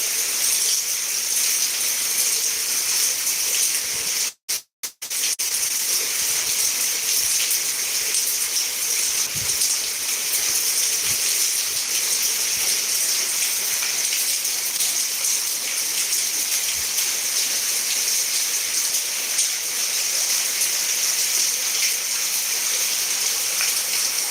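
Heavy rain pours steadily at midnight on a farm, a dense, continuous rush of water drumming on surfaces and streaming nearby, with one brief dropout partway through and no talking.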